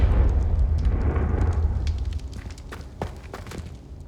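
A Confringo blasting spell explodes in the Hogwarts Legacy video game: a loud, booming blast at the start that rumbles and fades over about two seconds, followed by faint crackles and small pops.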